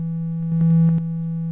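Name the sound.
synthesizer tone with resonance distortion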